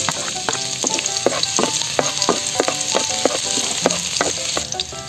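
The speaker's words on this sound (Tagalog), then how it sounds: "Gisahin na muna natin" Chopped ginger and garlic sauté in hot oil in a pan as a Filipino dish of beef skin and beef fat gets started, with a steady close sizzle and repeated clacks of a spatula stirring.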